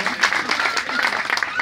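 An audience at a community aid-distribution event breaks into brief applause, a dense patter of clapping mixed with voices, lasting under two seconds.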